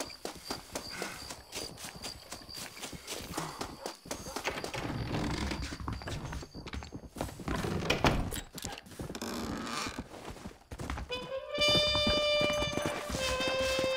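Horse hooves clip-clop in a steady, close rhythm as a rider travels on horseback in Red Dead Redemption, joined by a few thuds and, near the end, a bright tonal musical flourish.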